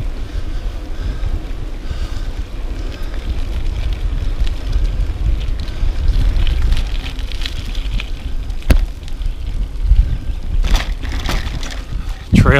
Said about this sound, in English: A little more wind now